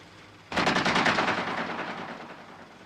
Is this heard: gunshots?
yes